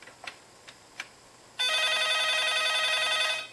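A landline phone rings during a call to a homemade phone-activated switch built around an Arduino Nano ring detector. A few faint taps come first, then one sustained loud electronic ring tone plays alone for about two seconds.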